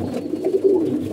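Domestic pigeons, some of them sick, coo in low, soft, rolling calls, a few overlapping coos within about a second against quiet background noise.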